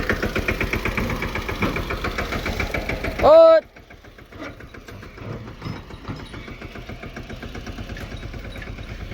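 A tractor engine idles during bajra fodder work on a farm, chugging steadily and close. A brief loud tone cuts in partway, then the quieter idle throb continues, with a short voice heard once.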